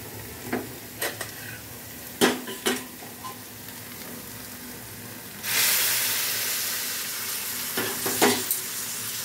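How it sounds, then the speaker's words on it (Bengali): Hot water poured slowly into a pan of frying spiced soybeans for a vegetarian malai curry, a sudden loud steamy sizzle that swells and hisses after a few light stirring clinks. "এবার আমি গরম জলটা দিয়ে দেবো আস্তে আস্তে।"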